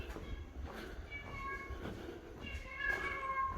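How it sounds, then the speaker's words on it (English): A cat meows several times from a short distance inside a quiet stone church along the Via Dolorosa, with thin, wavering cries over low background murmur. "I can hear a cat talking to us"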